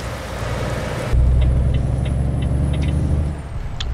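Steady rain hiss in Euro Truck Simulator 2 with a low truck engine drone underneath, brief clicking ticks scattered through, all without speech.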